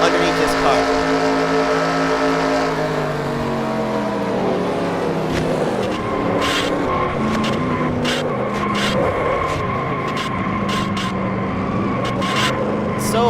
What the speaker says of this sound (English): you could definitely hear the engine